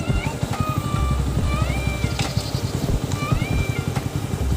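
A Bajaj Pulsar NS125 motorcycle idles with no throttle, its engine close and loud with a fast, even putter and a few brief higher tones above it.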